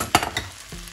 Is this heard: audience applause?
no